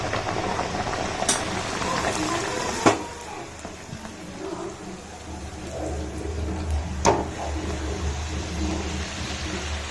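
Poori frying in well-heated oil, hotel style, with a steady low sizzle and bubbling throughout and a few brief sharp clatters at the pan, close and with no talk.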